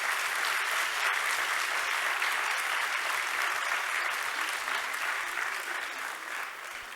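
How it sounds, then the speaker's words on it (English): Loud, sustained clapping from a crowd at a primary school annual day, honouring the children's performance. It stays dense and even throughout, then eases slightly toward the end, with no voices over it. "So please keep the thunder of claps big for each and every one"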